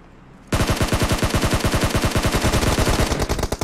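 Rapid automatic gunfire from PUBG Mobile, something like an AK-style rifle, bursts in after a brief quiet and keeps up a steady, fast, loud stream of shots to the end.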